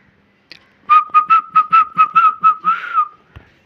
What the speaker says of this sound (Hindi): सीटियाँ मारना स्टार्ट कर दी